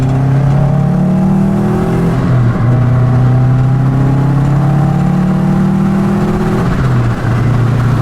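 Subaru WRX rally car engine pulling hard after a downshift to second, heard from inside: a loud, close turbo engine drone whose pitch climbs through gears with two brief shift dips, alone without talk.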